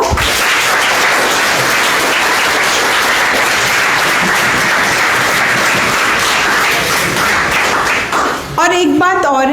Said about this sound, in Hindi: तो एक बार जोर से तालियां बजा दो।